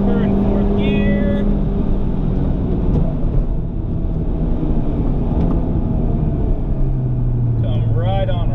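A Honda Civic Type R sweeps through a long corner in fourth gear, its engine droning loud and steady with rising and falling pitch, while someone talks over it throughout.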